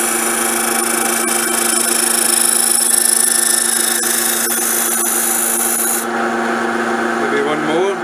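A rough gouge taking fine cuts on a wooden seed box, giving a steady, continuous rasping scrape that runs loud and close throughout with no pauses.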